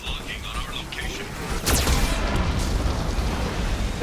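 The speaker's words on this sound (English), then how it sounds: "Warning, Geth cannon is locking on our location." Geth cannon fire in Mass Effect 2 sends a sharp blast through a dense, roaring battle din, leaving a sustained loud rumble and debris noise. Steady combat noise continues throughout.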